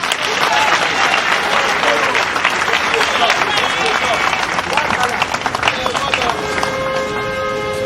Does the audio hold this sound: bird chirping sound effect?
no